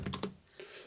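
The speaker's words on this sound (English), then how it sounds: "And let's test this new keyboard." Typing on an Adesso EasyTouch 7300 slim wireless keyboard: three quick close key clicks in a row, a short pause, then a softer fourth keystroke.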